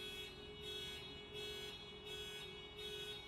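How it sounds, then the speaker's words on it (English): A car alarm pulsing on and off in a steady repeating rhythm, its tone buzzing and fairly faint as if from down the street. "That's an alarm of a car."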